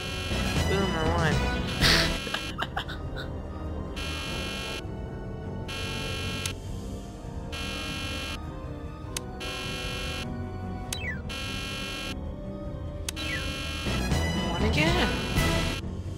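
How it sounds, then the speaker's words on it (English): Alarm blaring in the Nancy Drew: The Deadly Device video game, a steady pulsing buzzer tone that repeats in regular on-off bursts and runs throughout under game music and effects. "there's alarms going off"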